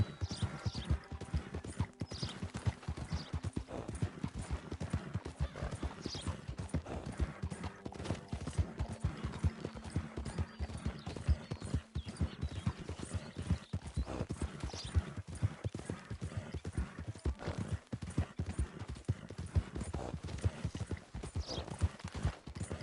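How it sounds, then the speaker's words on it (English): Rapid, steady hoofbeats from a horse galloping fast, close and continuous, with some wind noise and faint rustling throughout. "I didn't know this horse could go this fast."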